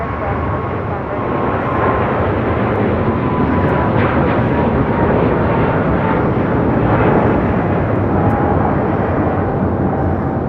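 An Air China Boeing 777-300ER jet at LAX gives off a steady, loud broadband engine roar with a constant rumble throughout, with faint radio chatter in the background.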